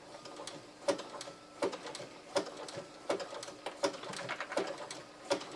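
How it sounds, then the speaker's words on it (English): A sewing machine zigzag stitches along the edges of applique quilt blocks, giving a soft rhythmic run of evenly spaced clicks and thumps, about one every three-quarters of a second, with a faint mechanical hum between them. "all you do is you just zigzag along the edges"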